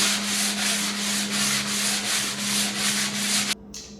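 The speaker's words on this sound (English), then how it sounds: "I'm going to go all the way over the plywood and sand it real gently" Plywood on a foldable workbench is sanded by hand with sandpaper wrapped around a block, making fast, steady back-and-forth scratchy rubbing strokes close up that stop abruptly near the end.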